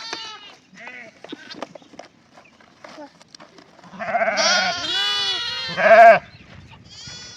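Several loud sheep bleats, wavering and close, follow a stretch of scattered clicks and quieter calls, with one especially strong bleat near the end.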